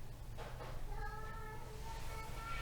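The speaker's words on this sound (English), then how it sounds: "So Anita's the house cat" A cat meows softly a couple of times, a thin drawn-out mewing over a steady low background hum.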